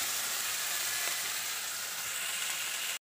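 Fish curry in a pot on the stove gives a steady, close sizzling hiss that runs evenly for about three seconds and then cuts off abruptly.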